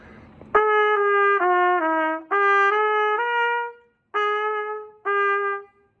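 A brass instrument plays a short phrase of smoothly slurred notes that step down and leap back up, with brief pauses between groups, clear and close.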